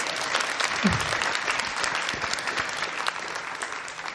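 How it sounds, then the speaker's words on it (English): Dense, loud audience applause fills an evening event hall, a thick continuous patter of many hands clapping without pause from start to finish. "So let's just give him a round of applause."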